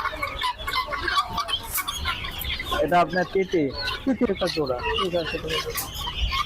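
Chicks and poultry cluck and chirp in a busy market at Nimtoli, a near, irregular chorus running under people talking.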